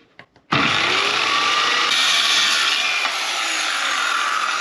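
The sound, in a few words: cutting wooden side panels to size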